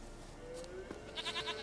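A goat in The Witcher 3 gives a short, quiet bleat over low game ambience, with a faint wavering cry near the end.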